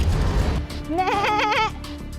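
Goats being herded on a farm during a rural cooking-battle challenge, with one clear wavering bleat of under a second, close by, rising over a steady background rumble.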